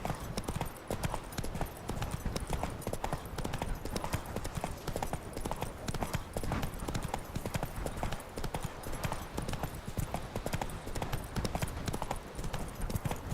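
Horse hooves clip-clop in The Witcher 3 video game, a quick, steady run of close, loud hoofbeats lasting throughout, with occasional faint voice in the background.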